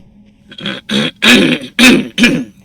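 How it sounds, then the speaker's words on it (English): Five rough throat-clearing bursts come in quick succession, close and fairly loud, with short silent gaps between them. "I don't mean to just keep clearing my throat into the microphone"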